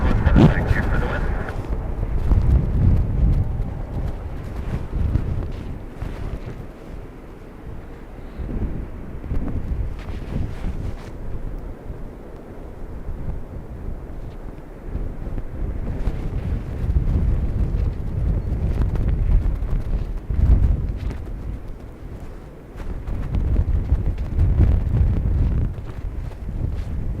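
Blustery crosswind buffets the microphone at Dublin Airport with heavy low rumbling gusts that rise and fall, while radio voices talk intermittently over it.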